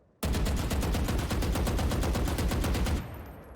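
Rapid automatic gunfire from the shooter game Valorant, a single sustained burst of about three seconds with tight, evenly spaced shots, loud and close, ending with a faint ringing tail.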